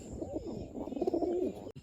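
Pigeons perched up on a loft give soft, low cooing calls in a gentle rolling rhythm, close by and fairly quiet, with a brief knock near the end.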